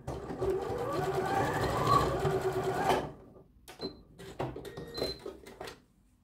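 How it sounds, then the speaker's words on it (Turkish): Sewing machine stitching elastic onto a blouse runs in one loud steady whir for about three seconds, then stops and is followed by fainter clicks and handling sounds. "Şimdi şuradan dikiyorum lastiğimiz kaçmasın diye."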